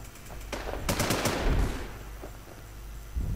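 Automatic gunfire in the survival shooter WarZ, a rapid burst of shots with ringing tails followed by a lone later shot, loud and close with no talking over it.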